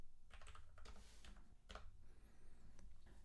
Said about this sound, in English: I'm typing command npx create NX workspace.